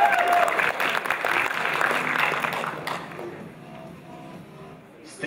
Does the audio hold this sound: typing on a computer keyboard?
no